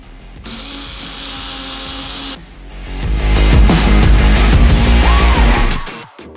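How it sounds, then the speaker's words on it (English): A power drill whines steadily, then bites in with a louder grinding roar as it bores a pilot hole through wood for a screw, close up and continuous. "I'm drilling a hole first before I put on the screw"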